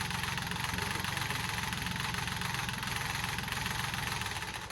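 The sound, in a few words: engine idling after start-up, sounding rough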